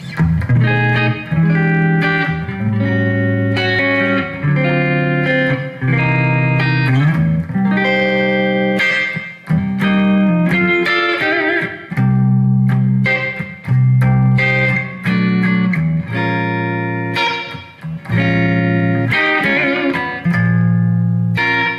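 Electric guitar played through a Peavey Vypyr 100 Pro amp on the neck pickup, chords and single notes ringing out with a wash of reverb, steady and loud with no talking.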